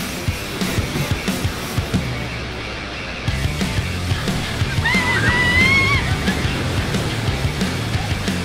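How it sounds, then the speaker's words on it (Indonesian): Strong ocean waves churn and slosh steadily in a dense, rushing wash, with a faint high squeal partway through. "Jadi lumayan deras ombaknya."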